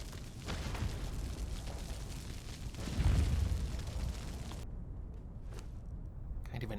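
Bombs go off during a Conan Exiles raid, deep rumbling blasts with a heavier boom near the middle, then the sound cuts back to quieter, thinner noise with a few faint pops.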